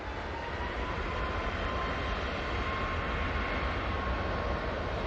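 A Malta Air plane takes off at Manchester Airport with a continuous broad roar of jet engines that holds steady throughout, heard from a distance with no talking.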